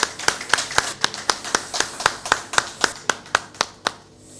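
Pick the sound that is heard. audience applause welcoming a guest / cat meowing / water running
audience applause welcoming a guest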